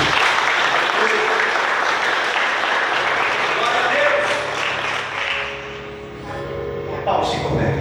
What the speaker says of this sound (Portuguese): Você pode aplaudir esse Deus em nome de Jesus Cristo?